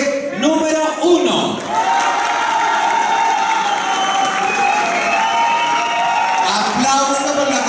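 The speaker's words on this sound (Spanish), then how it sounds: "Aplauso para la concursante número uno" Audience at a TV pageant competition cheering and applauding a contestant, a loud continuous roar of clapping, shouts and whoops that stays dense throughout, with music and an announcer's voice over it.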